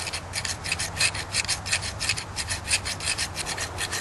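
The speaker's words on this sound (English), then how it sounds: "and then we'll flip it over, and we'll sharpen this side on the opposite" Hand file sharpening the edge of a homemade broadhead, rhythmic rasping strokes, about a dozen even back-and-forth passes close up with no talk.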